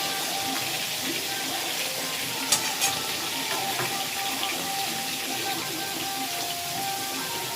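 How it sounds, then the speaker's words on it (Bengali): Potatoes frying in hot oil in a pan for chicken masala while being stirred, a continuous sizzle with sharp scraping clicks from the spatula and faint background voices. "আলুটা ভালো করে নেড়ে সুন্দর করে গুছিয়ে করবো, গুছিয়ে দেবো।"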